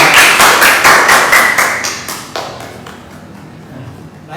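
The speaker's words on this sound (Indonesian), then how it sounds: "Baik, tepuk tangan kita bersama." A class of students claps together during a Hindu religious education lesson, a burst of close, dense hand claps that thins out and fades after a couple of seconds.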